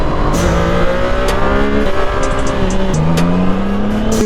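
Inline-three CFMoto 675SR-R sport motorcycle engine on a test ride, a loud, steady drone with rising and falling pitch as it revs through gears, close and continuous without speech.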